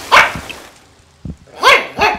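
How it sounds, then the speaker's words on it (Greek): A small dog yaps in quick short barks beside a gardener working at a well, bursts of two to three barks separated by a pause, close and clear. "Το σκυλάκι του, που χοροπηδούσε γαυγίζοντας κοντά του"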